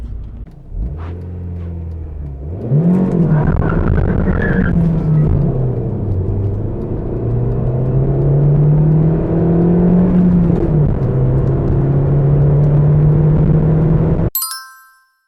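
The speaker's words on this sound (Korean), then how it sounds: "염화칼슘 때문에 제대로 측정이 될지는 모르겠지만 가속 성능을 한번 알아보겠습니다." A Hyundai Tuscani GTS with a five-speed manual gearbox accelerates hard on a road slick with de-icing calcium chloride. The engine note rises, dips through a gear change, then climbs again for a long loud pull before a chime at the end.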